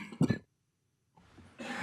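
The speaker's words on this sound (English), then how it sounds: "Cough." A single short cough in a council committee meeting room, followed by quiet and faint rustling.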